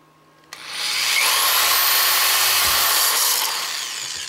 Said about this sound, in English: So drill one and just drill one side at a time if you don't have a drill press.